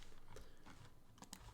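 Quick bursts of keystrokes on a computer keyboard, a few soft clicks close by in a quiet room.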